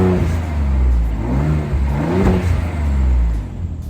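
A second-generation Ford Raptor engine fires up cold and revs, a steady mid-pitched exhaust drone swelling and easing as the throttle rises and falls, heard up close inside the cab.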